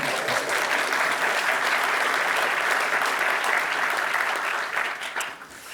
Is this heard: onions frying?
no